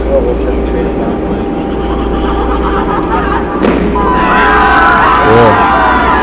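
Steady low engine drone inside an aircraft cabin in the horror video game Don't Scream, with a sudden thud and rising whine of mechanical sounds toward the end, before a plane crash.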